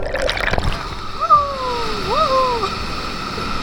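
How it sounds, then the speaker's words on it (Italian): Water pours down a waterfall at the end of the Siq Trail in Wadi Mujib, Jordan, making a steady, close rushing splash. A brief voice-like tone passes over it. "Questo è il punto finale dove c'è una cascata."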